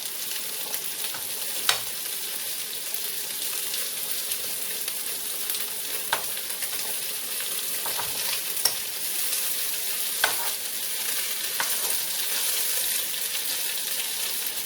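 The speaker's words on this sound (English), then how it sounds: "you're just going to flip your meatballs over" Gluten-free cheesy meatballs frying in a pan, a steady close sizzle with several sharp metallic clicks as a metal spoon flips them, no talking.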